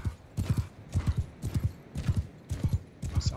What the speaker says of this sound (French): C'est un cheval de merde